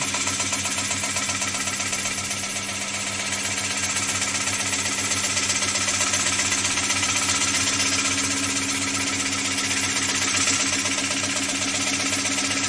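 A wood lathe spins a large platter blank while a turning tool feeds across the tool rest, giving a continuous close mechanical drone with a fast rhythmic chatter and no talking.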